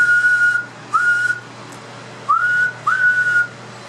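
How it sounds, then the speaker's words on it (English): Four short, clear whistled tones into an amateur radio transmitter microphone feeding a pentode-tube linear amplifier, each note steady or gliding slightly upward, separated by brief pauses over a faint steady hum. "I'll whistle into it."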